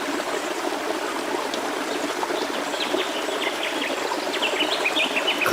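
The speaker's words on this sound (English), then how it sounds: "Close by is a little river." Small river flowing nearby in the Australian bush, a steady broadband rushing trickle throughout with faint bird chirps scattered over it.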